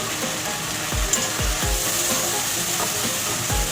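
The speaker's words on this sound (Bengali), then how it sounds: "মশলা আমি খুব ভালো মতন কষিয়ে নিয়েছি দেখি তেল ছেড়ে দিয়েছে মশলার থেকে" Spice paste with green and ripe chillies frying in oil in a pan, a steady close sizzle broken by several sharp stirring scrapes, with no voices.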